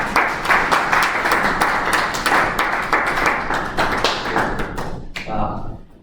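A lecture audience gives a round of applause to a student presenter after a steels crash course, with close, distinct claps over a dense clapping bed that thins and dies away near the end, where a voice starts talking.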